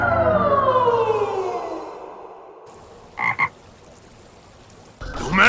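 Frog croaks in a Naruto anime scene, heard as a short double croak burst in the middle after a fading descending siren-like tone, with a sharp noisy burst at the end.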